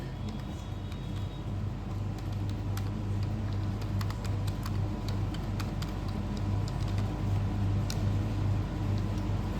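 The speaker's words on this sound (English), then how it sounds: "I will be using number keys to make my list" Computer keyboard typing with number keys while writing a list in WordPad: scattered light clicks at an irregular pace, fairly faint over a steady low hum that runs throughout.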